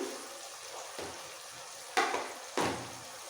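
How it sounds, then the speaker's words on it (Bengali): Spices with garlic paste, ginger paste and a little sugar fry in a pan over a soft sizzle, broken by a few brief scraping stirs, with louder strokes near the end. "এবার মশলাগুলো একটু কষিয়ে নেব একটু নাড়াচাড়া করে"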